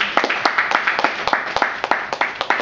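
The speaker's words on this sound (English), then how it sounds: "can we have a big round of applause for Jesse, please, who performed before?" A small audience at a charity music gig in a London Starbucks café claps steadily at close range, with distinct, evenly spaced hand claps and no cheering.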